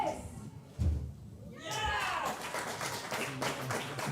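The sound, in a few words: crowd clapping at a touch rugby match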